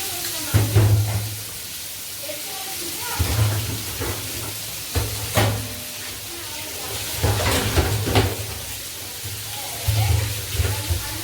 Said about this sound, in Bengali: আলুটা কষানো হচ্ছে, আর একটু কষে নিই